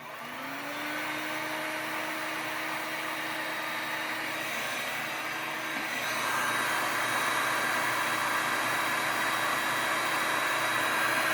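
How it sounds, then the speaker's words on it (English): A heat gun blowing a steady, loud whooshing roar of hot air while shrinking heat shrink tubing onto a CNC connector, a faint whine running under it and the airflow growing a bit harsher partway through. "Grab our heat gun."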